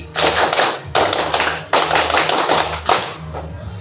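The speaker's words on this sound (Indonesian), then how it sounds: "Tepuk pramuka 1 kali." Indonesian scout clap performed once by a group of schoolchildren in a classroom, a rhythmic sequence of crisp group claps and thumps in short bursts separated by brief pauses, close and fairly loud.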